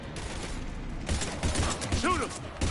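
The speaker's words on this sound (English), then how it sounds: "we're taking heavy fire" Heavy gunfire in the video game Mass Effect 3 forms a thick, continuous clatter of shots and mechanical effects, getting louder about midway, with game voices and whooshing effects over it.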